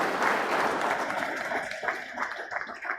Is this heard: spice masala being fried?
no